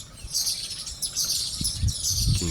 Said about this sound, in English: Kingfisher bird sounds.